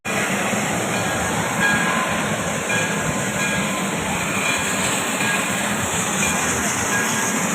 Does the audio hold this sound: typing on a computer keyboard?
no